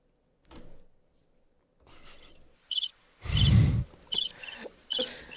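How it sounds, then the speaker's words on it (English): A cricket chirping sound effect, thin and artificial, plays in short repeated bursts alongside a brief low rumbling swell, fairly close with quiet gaps between. "That's the saddest cricket noise."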